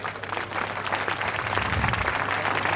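A hall audience at the GJD 2024 Gurukul evening event breaks into loud, dense applause, with many hands clapping in a continuous roar that stays even and close throughout.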